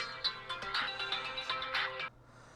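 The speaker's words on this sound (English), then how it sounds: "And my phone is ringing." A flip phone rings during a test call, its bright melodic ringtone playing for about two seconds before cutting off abruptly, clear and close with no talking.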